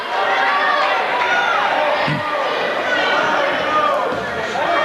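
Steady, loud crowd roar and chatter fills a gym at a girls' varsity high school basketball playoff game, with shouts and faint sneaker squeaks under the continuous noise.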